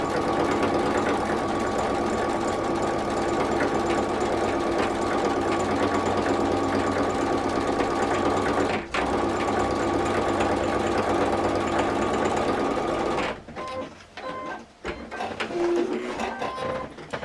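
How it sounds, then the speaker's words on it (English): A sewing machine runs steadily and close up, stitching strips of Christmas quilt fabric with a continuous mechanical hum for about thirteen seconds before it stops and gives way to a few softer handling sounds. "I'm stitching, literally, I'm lining up the fabric on that particular line."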